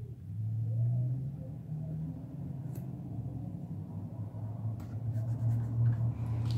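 Steady low traffic rumble from a busy intersection carries on in the background. Close pen-on-paper scratching from planner writing sits over it, and a passing engine swells near the end.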